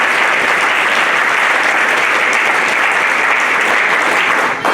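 A church congregation applauds for Jesus at a revival meeting in Montreal, a loud, steady wall of clapping from a large crowd that holds unbroken for several seconds.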